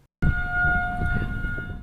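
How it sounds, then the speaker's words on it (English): A tornado siren wails as a steady sustained tone over low rumbling background noise, beginning abruptly after a short silence and holding at moderate loudness. "tornado sirens sounded by local governments are used to alert anyone of incoming severe weather"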